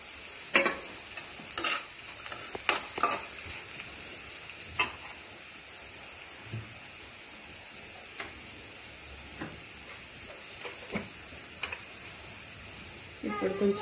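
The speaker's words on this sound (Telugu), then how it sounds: "ఈ ఆనియన్స్ కూడా కొంచెం లైట్ బ్రౌన్ కలర్ వచ్చే వరకు కొంచెం ఫ్రై చేసుకోవాలి." Onions and cashews frying in a pan for spicy chicken majestic, a steady soft sizzle broken by occasional stirring scrapes and knocks, close and fairly quiet.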